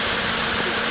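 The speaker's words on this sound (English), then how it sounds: "So we'll turn the spindle on. I've got it set almost to maximum." The spindle motor of a CNC3020 engraver runs near maximum speed, a loud, steady high-pitched whine with broadband hiss, continuous and close.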